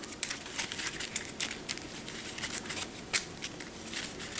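Decks of Mage Knight board game cards are shuffled by hand, giving repeated crisp riffling and flapping bursts in an irregular rhythm, close and fairly loud, with no talk over them.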